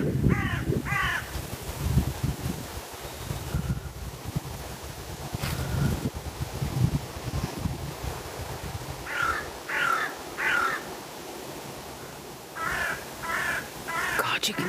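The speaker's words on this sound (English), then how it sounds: "That's all you can hear is the crows." Crows caw in repeated bursts of two or three harsh calls, fairly close, over steady wind noise and low rumble, with quiet talking mixed in.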